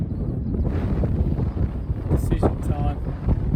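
Strong wind buffets an outdoor microphone in a steady, loud roar, with gusts swelling and easing throughout and no clear talk over it.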